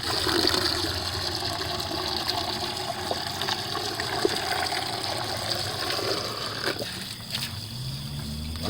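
Water runs steadily over PVC plumbing parts as industrial residue is rinsed off, a continuous close-up rushing and splashing that holds at an even level throughout.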